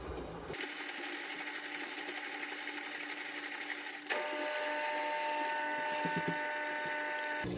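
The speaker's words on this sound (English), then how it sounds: "Now we just gotta wait for the machine to finish up its cycle." An LG front load washing machine runs its wash cycle, a steady mechanical hum and whir that steps up in level midway, with faint clicks and rattles inside the drum.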